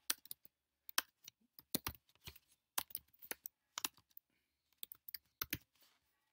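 Rapid, uneven keystrokes on a Mac computer keyboard while Python code is typed, with crisp close clicks in short bursts and brief pauses between them.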